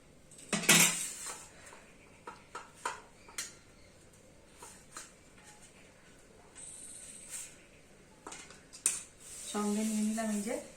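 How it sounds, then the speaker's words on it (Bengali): Rice is served onto a plate, with a spoon clinking and scraping against metal dishes in several sharp bursts, separated by quieter pauses. "এই ভাতটা বেড়ে নিলাম"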